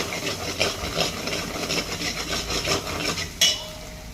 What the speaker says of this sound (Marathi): आता हे जे मांद आहे खेकडचं पिव पिवळं हे आपल्याला याच्यातच असं छान परतवून घ्यायचं आहे